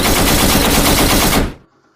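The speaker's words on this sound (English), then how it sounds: "We're gonna send the gunshots in because this is shots fired question right here" Rapid burst of gunfire dropped in as a sound effect, loud and dense for about a second and a half, then cutting off abruptly into near silence.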